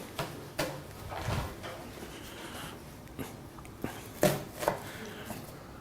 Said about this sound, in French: Maintenant, tu le mets comme ça et tu peux le couper avec confiance.